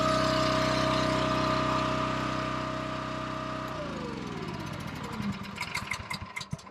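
The engine of a Garland Verti Split log splitter runs steadily at close range, then winds down and slows, with a faint rattle as it fades toward the end.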